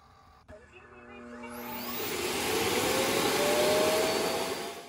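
A Lenovo robot vacuum cleaner starts up in spot-cleaning mode, its motor whirring up from a click into a loud, steady rushing drone before easing off slightly at the end.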